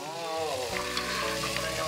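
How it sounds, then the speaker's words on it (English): A mix tossed into hot oil in a wok sizzles loudly and is stir-fried, a continuous close hiss with light scraping and tossing as the ingredients move about. "She tosses the mix into hot oil in a wok and stir fries until it gives off an aroma"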